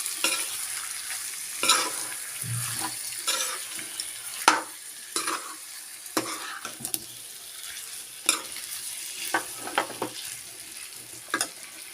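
Chicken curry cooking in a pan: steady frying sizzle with repeated stirring scrapes at irregular intervals, close and moderately loud, with no one talking.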